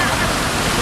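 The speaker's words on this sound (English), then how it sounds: "The dolphins spraying water from their spout." Steady rushing hiss of water spraying from dolphin sculpture spouts in a fountain, close and loud, with no pauses.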